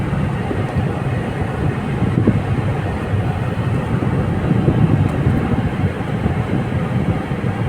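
A 25,000-volt electric train passes a closed level crossing, a steady low rumble and rolling rail noise mixed with wind buffeting, moderately loud and continuous throughout.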